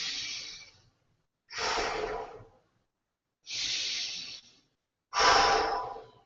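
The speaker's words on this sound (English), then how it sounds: "Deep breaths in and out through the nose to control your breathing." Four slow, deep nasal breaths in and out during a beginner's yoga flow, each a broad airy rush lasting about a second with short silent gaps between, close and clear with no talking.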